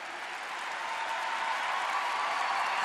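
A large gathering at a Catholic camp meeting applauds in a thick, continuous roar of clapping that holds steady throughout, spread wide and full like a big crowd in a hall.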